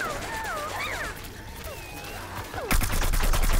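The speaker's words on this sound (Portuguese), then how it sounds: "dois caras atirando ali em mim" Rapid gunfire bursts from the shooter game Plants vs. Zombies Garden Warfare erupt near the end. Loud repeated cracks follow a stretch of whistling, whooshing game effects.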